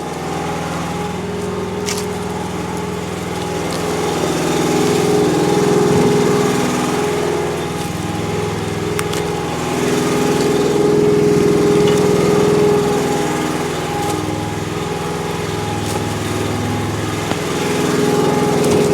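A log splitter's small engine runs steadily and loudly nearby, holding a constant droning hum with slight swells in load and no voices.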